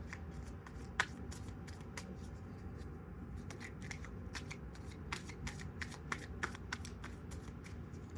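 A tarot card deck is shuffled by hand, producing crisp riffling bursts and sharp snapping clicks in an uneven rhythm, close up and moderately quiet, over a faint background hum.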